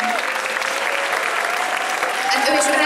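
Loud audience applause at the Tavaszi Mondocon 2017 cosplay contest greets a jury member, dense sustained clapping from a close crowd with a voice faintly heard beneath it.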